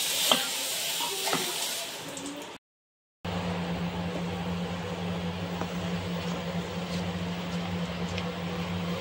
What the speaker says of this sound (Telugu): కాచి ఇలా కలబెడతానే ఉండాలి కంటిన్యూస్గా.